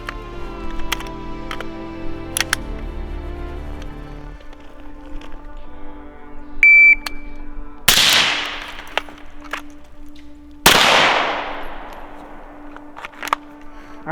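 Rifle shots at an outdoor shooting range, fired by a shooter wearing a gas mask: two sharp, loud cracks a few seconds apart, each with a ringing tail, plus faint metallic clinks and a low steady hum between them.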